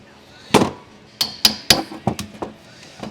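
A hammer taps down a metal part during a transmission rebuild, sharp ringing taps at irregular intervals, with lighter knocks between them, close by.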